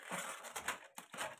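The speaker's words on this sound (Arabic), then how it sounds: "هبتدي اقطعها كده بالنص كده بالشكل ده كده بالنص" A knife slices through a cabbage in a few crisp, crunchy bursts close by, each cut a short crackling tear of leaves, with no talking.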